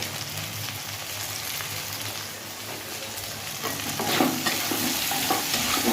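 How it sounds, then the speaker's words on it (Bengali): Spice masala with cumin powder fries and is stirred in a pan for a vegetarian dish, giving a steady sizzle with scraping spatula strokes that grow busier toward the end, with no talk over it. "মশলাটাকে ভালো করে কষিয়ে নেব"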